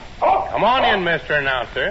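Buster Brown's dog Tige barks and yips on an old-time radio show, with someone talking at the same time.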